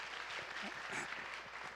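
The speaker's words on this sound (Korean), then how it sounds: "여러분 박수 한번 부탁드리겠습니다" A civic roundtable audience applauds at a citizens' forum meeting, a quiet, even patter of many hands heard from a distance, with faint voices mixed underneath.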